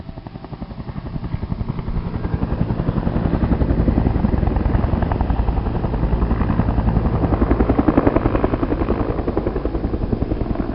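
Helicopter in the naval strategy game Harpoon Ultimate Commander's Edition, with a steady throbbing rotor beat that stays loud and continuous throughout, with no talking.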